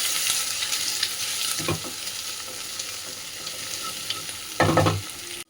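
An egg fries with a little salt in a pan, a steady close sizzle broken by a couple of sharp scraping stirs from a spatula, with no voices.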